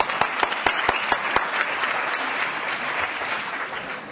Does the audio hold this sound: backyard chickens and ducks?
no